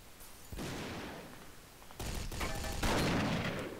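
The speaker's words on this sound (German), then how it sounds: "Das war doch ein Schuss, oder?" Sniper rifle gunfire in the shooter game Brick-Force on a D-Day capture-the-flag map, with sharp bursts and a louder crack near the end, fairly quiet overall.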